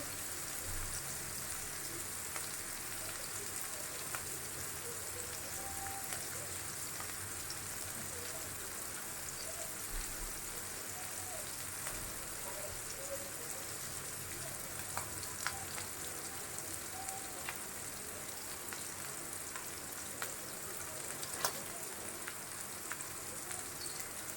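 Shrimp frying in a pan gives a soft, steady sizzle with faint scattered pops, quiet and continuous throughout, with no talking.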